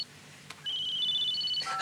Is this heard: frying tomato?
no